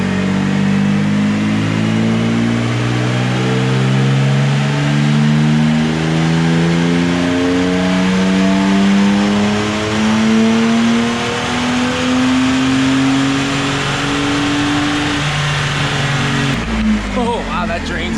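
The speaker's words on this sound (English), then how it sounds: "So we just finished all those dyno runs, as you see there." A 2017 Toyota Tacoma TRD Off-Road engine revs on a dyno, its pitch climbing steadily through a long sustained pull before dropping off, loud and close.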